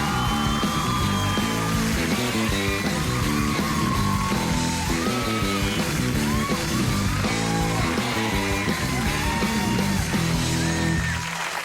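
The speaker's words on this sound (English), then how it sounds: "The screaming girls, that never gets old, does it?" A late-night talk show studio audience of girls screams and cheers for guest Colin Farrell, a loud sustained wall of shrieks and yells with music playing underneath.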